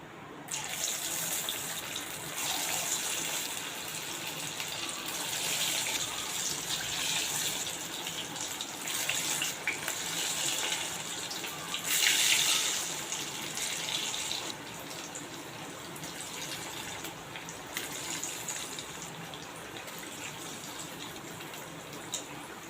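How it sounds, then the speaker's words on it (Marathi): Spinach and mung bean fritters (bhaji) drop into hot oil and fry with a steady, dense sizzle and crackle that stays fairly loud throughout, swelling briefly midway, with no talking. "त्याची पण भजी मी तेलात सोडते"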